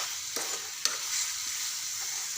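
Masala eggplant curry simmering in a pan, a soft continuous sizzle with a couple of faint stirring scrapes, steady and close with no voices.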